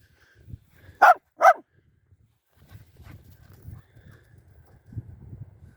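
A dog playing frisbee outdoors gives two sharp, loud barks close by, followed by quieter rustling and low movement sounds.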